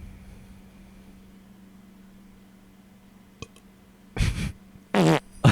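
A loud, close burp erupts in two rough bursts, a shorter rumble followed by a longer one, after a quiet stretch with a faint steady hum.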